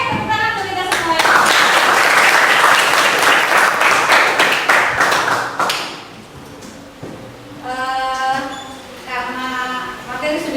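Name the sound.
classroom applause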